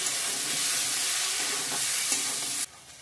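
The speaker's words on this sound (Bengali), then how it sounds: "ভালো করে কষিয়ে নেব।" Spiced chicken masala sautés in a pan as a loud, steady sizzle with a few stirring scrapes, close up and with no talk, cutting off abruptly near the end.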